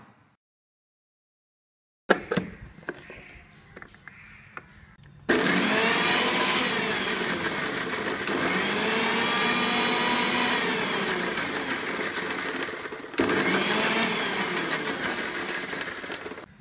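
Blender whirring at low speed while mixing homemade mayonnaise, starting after a short silence with a quieter buzz, then a loud steady motor drone that dips briefly and resumes.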